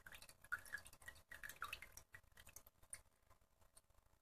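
Liquid from a faulty meter drips into a shot glass, a quick patter of small droplets ticking against the glass close by, busier in the first two seconds and then thinning out. There is no talk.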